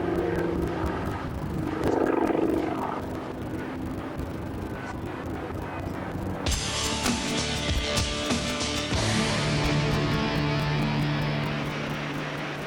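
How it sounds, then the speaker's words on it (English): A powerful aircraft engine roars continuously overhead at the 1998 Farnborough air show, a deep droning hum that shifts in pitch partway through as the craft hovers like a helicopter. "it hangs literally like a helicopter, hovering in the air"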